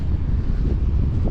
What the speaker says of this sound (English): just do a quick wind check now